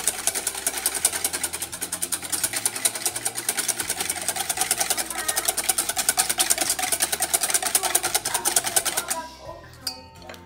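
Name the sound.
mixing sugar in a bowl for French toast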